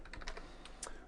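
Fast typing on a computer keyboard, a quick run of light, close key clicks with uneven rhythm and a couple of louder strikes, alone with no talk.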